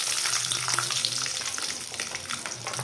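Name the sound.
fresh coconut frying in oil for a chole curry base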